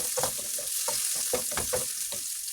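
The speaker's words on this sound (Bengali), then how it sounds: "আমি চুলায় একটি ফ্রাই প্যান বসিয়ে দিয়েছি এবং প্রয়োজন মতো রান্নার তেল দিয়ে দিয়েছি পেঁয়াজ কুচি, কাঁচামরিচ কুচি" Chopped onion and green chili frying in oil in a pan, a steady soft sizzle with repeated scraping stir strokes, close and fairly quiet, no talk.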